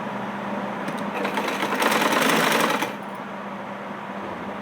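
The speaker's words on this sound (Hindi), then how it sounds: "मैं डबल सिलाई लगाऊंगी" A sewing machine runs a double line of stitching through fabric, a steady mechanical whir rising for a couple of seconds then easing back to a lighter hum.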